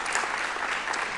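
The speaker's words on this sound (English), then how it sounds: "So round of applause for President Rosenberg." A crowd at a spring commissioning ceremony applauds President Rosenberg, steady dense clapping filling the room throughout with no break.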